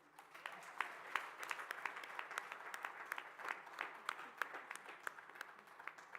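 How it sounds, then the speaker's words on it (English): Steady applause from a conference audience, many hands clapping at once with a dense, continuous patter that holds at an even level throughout. "Please give another round of applause."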